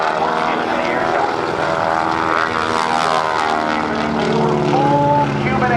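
Propeller aerobatic airplane flying a roundhouse loop low over the ground at a navy air station airshow, its engine drone loud and continuous, pitch sweeping up and down as the plane climbs and turns, with a faint voice underneath.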